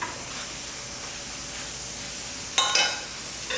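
Goat head curry being stirred in a pan: a steady soft sizzle and hiss under a close scraping of the spoon, with a brief louder burst of stirring near the end.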